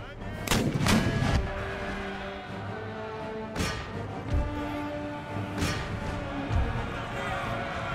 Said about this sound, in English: They've got artillery back here as well.